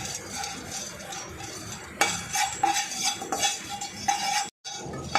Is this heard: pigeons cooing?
no